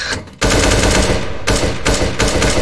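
Rapid, sustained automatic gunfire in an online shooter game: dense, loud bursts of shots close up, with a brief gap before the firing resumes, and no talking.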